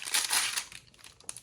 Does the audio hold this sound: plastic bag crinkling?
yes